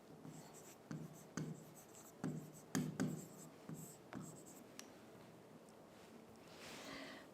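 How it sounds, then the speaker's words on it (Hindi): Pen strokes writing a translation by hand on paper, a series of soft, close scratches and taps in short uneven bursts, with a quiet pause near the end. "यहाँ हम लिखेंगे अनुवाद"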